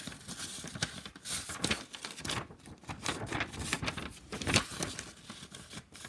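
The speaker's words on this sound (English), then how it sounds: "So you're gonna take your paper, fold it in half," White paper is folded in half, producing soft crinkling and rustling with light taps and brushes, close by and fairly quiet.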